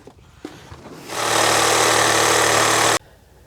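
A Sawzall reciprocating saw cuts during a car stereo install, starting after a couple of small knocks and running as a loud, steady buzzing rasp for about two seconds before stopping abruptly.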